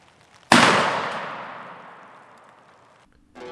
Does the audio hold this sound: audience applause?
no